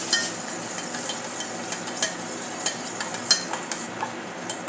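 A soy sauce and white vinegar mixture is whisked briskly in a bowl for Chinese bhel, giving quick metallic clinks and scraping strokes in an irregular rhythm. The clinking sits close and fairly quiet, and no one speaks.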